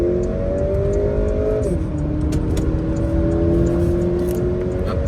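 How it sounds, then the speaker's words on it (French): A 245-horsepower Porsche Macan engine pulls steadily from inside the cabin while merging onto a motorway, a smooth droning tone climbing with revs, dipping briefly at a gearshift, then rising again under road noise. "Là, je vais essayer d'accélérer un peu."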